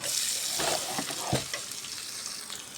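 Capsicum frying over high heat for a white chow mein, a bright crackling sizzle with a few scrapes and stirring knocks from a utensil, close and steady.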